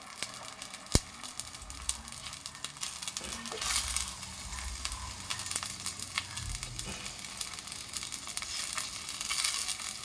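Canned mackerel sizzles and simmers in a pot, with a steady frying hiss, occasional stirring scrapes and a sharp clink near the start, heard up close with no talking.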